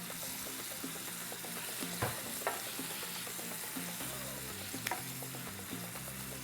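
Onions, peppers and celery frying in a pan, a continuous crackling sizzle with repeated spoon scrapes and light knocks, close and steady with no talking.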